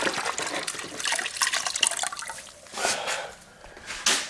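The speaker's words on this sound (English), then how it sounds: "dunk it in the water" Water splashes and trickles up close as a hand is dunked in a container of water during a caulking job, with dripping and sloshing spread over several seconds.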